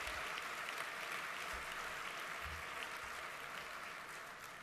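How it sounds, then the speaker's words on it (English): Audience applause at a Sacramento host breakfast event, a dense steady clapping from a large crowd that holds throughout and tapers slightly toward the end. "if you wouldn't mind just giving them a round of applause for their leadership and your board"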